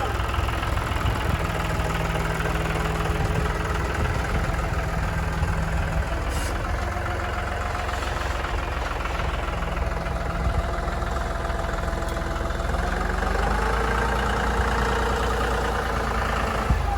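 A heavy tractor engine chugs steadily at idle close by, a low rumbling drone that runs throughout without any talking.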